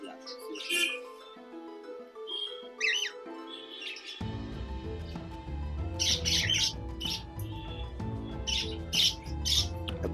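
A pet budgie parrot on a balcony chirps and squawks in quick, close bursts, first alone and then over a steady background hum.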